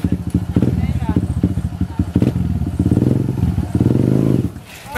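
Motorcycle engine starting with a kick start, followed by a loud, close, chugging putter of uneven bursts before settling, with people talking over it.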